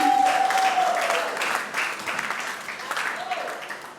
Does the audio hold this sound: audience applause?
yes